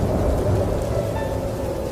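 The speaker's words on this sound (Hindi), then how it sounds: "अरे बाप रे, कितनी तेज बारिश हो रही है।" Heavy rain pours steadily over a village dirt road, a dense continuous hiss layered with a deep low rumble of thunder, loud and close with no voices.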